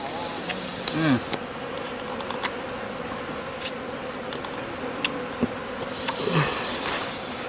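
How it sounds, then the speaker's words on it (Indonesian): Bees buzz continuously close by around a wild honeycomb in a Sumatran forest, a few individual insects swooping past louder amid a dense, steady hum. "Kita rebutan sama lebah-lebah nih."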